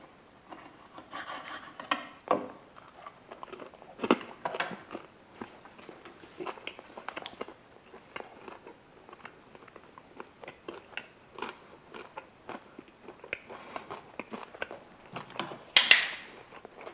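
Crunchy biting and chewing of air-fried slow-cooked pork close to the mic, repeated bites and wet crunches over a quiet background with no talking.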